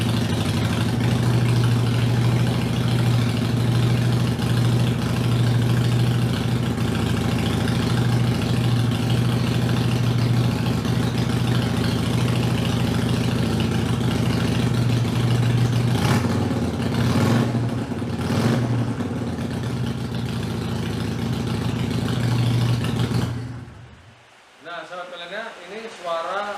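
A Harley-Davidson Iron 883 motorcycle engine idles steadily and loudly before service, with a constant low throb. Near the end the rumble cuts off abruptly, leaving faint background noise.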